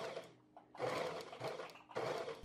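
A sewing machine stitching a band onto a pocket edge of clothing, running in short quiet bursts of whirring stitching separated by brief pauses.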